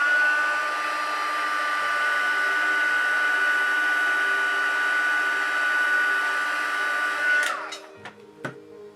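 A heat tool set to paint blows with a steady loud whirring hiss and a thin high whine for several seconds, then switches off, spinning down into a few light clicks and taps.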